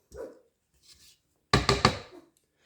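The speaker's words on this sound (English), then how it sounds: "My dogs are howling out the front door right now." Dogs at a front door give a few soft yelps, then a cluster of three loud, close barks with a short tail of whining, with quiet gaps between the bursts.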